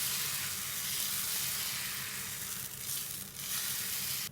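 A steady, loud hiss of wheat dosa batter sizzling on a hot pan, continuous and close with no voices.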